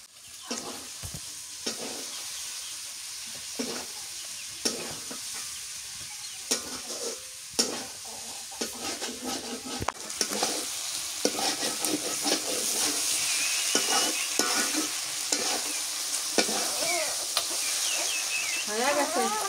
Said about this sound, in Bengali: ধনিয়া পাতা দিয়ে একটু নাড়াচাড়া দিয়ে নামে নেব